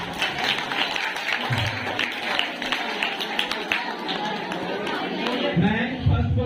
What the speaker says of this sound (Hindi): तो भाई ताली बजा